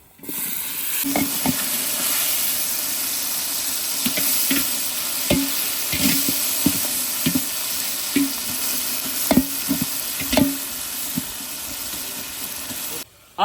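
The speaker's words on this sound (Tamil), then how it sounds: "தக்காளி வெங்காயம் நல்லா வதங்கிருச்சு" Tomato and onion fry in a pan for a fish curry, a continuous sizzle broken by many irregular clinks and scrapes of a stirring spoon against the vessel.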